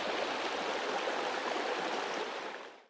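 River water at East Brimfield Lake rushes steadily with a dense, even hiss of flowing current, close and continuous with no voices, fading out at the very end.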